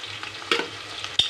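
Drumsticks browning in hot oil in a pan for sambar give a soft, steady sizzle, with a couple of brief scraping stirs near the middle and another near the end.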